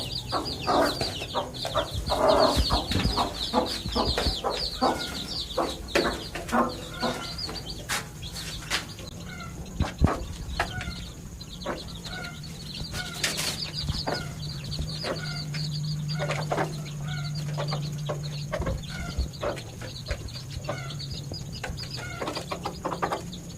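Domestic hens and young chicks cluck and cheep in a coop, with a steady stream of overlapping calls and short peeps from several birds at close range and no talking.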